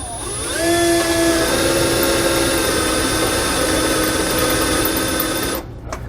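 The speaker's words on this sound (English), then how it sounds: "We'll now use a 3/8 drill bit to drill out the mark that we made where our hole in our Sumo Spring is going to be" Power drill boring a hole with a 3/8 drill bit through a SumoSprings helper spring on a 2019 Fleetwood Bounder, a steady loud whine that spins up and holds for several seconds before cutting off.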